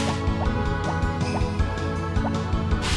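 Repeated watering of crops in Harvest Moon: Back to Nature, a soft run of drips and small splashes over steady background game music, at moderate level and alone.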